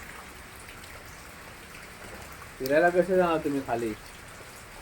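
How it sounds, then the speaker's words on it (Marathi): Steady rain pours down in a broadband hiss throughout, with a person speaking over it in the last couple of seconds. "आता पाऊस पडतोय"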